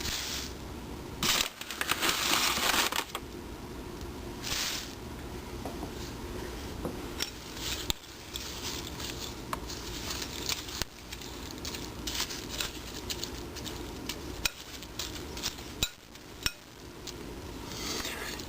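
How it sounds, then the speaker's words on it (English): Oats being stirred with hot liquid for gluten-free cherry oatmeal: a spoon scrapes and pats around the bowl in steady, close strokes, with a few louder clatters. "and then I'm going to stir it around."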